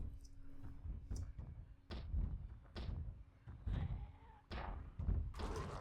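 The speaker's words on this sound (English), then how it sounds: "I hear quite a bit of thumping." Zombies thump on a door in the video game Project Zomboid, a series of about seven quiet, heavy thuds at irregular intervals with short gaps between them.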